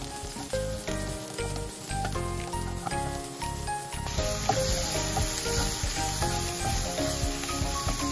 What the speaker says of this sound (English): We are going to stir fry the onions.